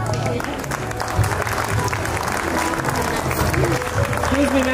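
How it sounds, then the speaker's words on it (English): Audience applause for a prize winner at a school annual day, a loud crowd clapping over steady hall noise, with voices and a faint tonal hum mixed in underneath. "Let's have a huge round of applause, audience, for the winner"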